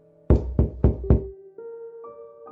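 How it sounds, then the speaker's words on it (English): Four sharp knocks on a door land in quick, even succession, loud and close, followed by sustained tonal sounds. "I knocked on the door."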